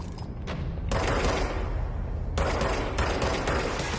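Rapid gunfire in the action game Control, rattling out in dense bursts with brief gaps, loud and close, with a heavy boom underneath.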